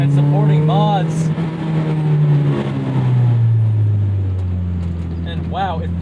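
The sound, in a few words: 2001 Toyota MR2 Spyder with 2ZZ engine swap driving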